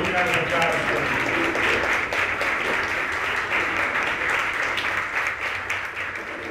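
Sponsors and partners stand as a community forum audience at Broward College applauds, a continuous wash of many hands clapping at steady volume from start to finish, fading slightly toward the end.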